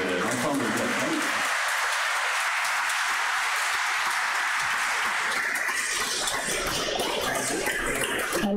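An audience applauds after an early Quebec music performance by the Ensemble Nouvelle-France with organ. Broad, continuous clapping fills the whole stretch, with voices talking over it.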